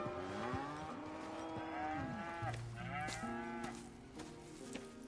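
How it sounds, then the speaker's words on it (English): Cattle lowing on a ranch in Red Dead Redemption 2, several long, drawn-out moos overlapping one another, close and clear over a steady background of farm ambience. "Here's the cows."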